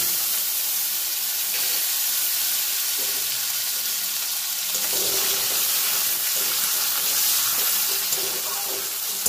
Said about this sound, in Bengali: কুচিয়ে রাখা পেঁয়াজটা দিয়ে একটু ভেজে নিই।